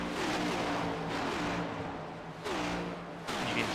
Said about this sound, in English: You can hear the mix of cars that are on the cars that are off.